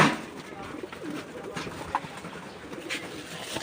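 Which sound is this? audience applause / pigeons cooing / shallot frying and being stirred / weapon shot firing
pigeons cooing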